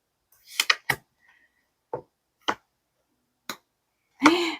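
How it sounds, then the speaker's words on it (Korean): A handful of sharp, isolated hand claps ring out close by, spaced irregularly with quiet gaps between them, the last one slightly fuller and longer. "모르고 박수 쳤어요"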